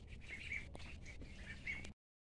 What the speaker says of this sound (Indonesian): Ini lur hasil budidaya bebek dengan pakan magot di Jenderal Magot.